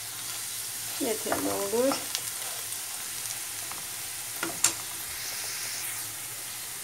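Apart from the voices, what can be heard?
food frying in a pan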